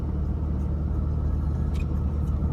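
An Opel Frontera drives slowly over a rough, bumpy dirt track off-road, heard from inside as a steady, close, low rumble of engine and jostling body with no pauses.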